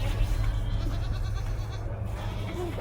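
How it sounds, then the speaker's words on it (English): A goat bleats at a tractor-pulling and ATV show weekend, a short wavering call heard over a low, steady engine-like rumble. "first time meeting a goat"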